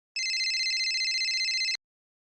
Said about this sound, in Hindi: सर पप्पू थकेले का फोन आ रहा है।